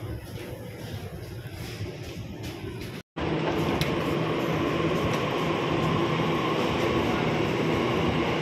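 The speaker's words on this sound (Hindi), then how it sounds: "यहाँ मैंने ले ली है मेट्रो, और बस मैं यहाँ से जा रही हूँ ऑफिस।" Continuous rumble of a metro train carrying a commuter to the office, steady and loud throughout, with one brief dropout near the middle before the roar resumes.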